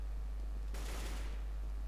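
A Zeus taser fired in Counter-Strike: Global Offensive, a single sharp electric burst that crackles loudly for about half a second and then trails off, with no talk over it.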